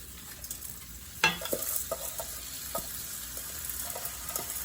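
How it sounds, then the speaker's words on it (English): Rice, rinsed twice, sautéed in a pan with a little chili sauce, giving a steady low sizzle with scattered stirring scrapes and one sharper clatter near the start. "Now I just want to saute this rice."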